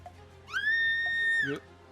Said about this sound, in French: ce malus qui crie dans les oreilles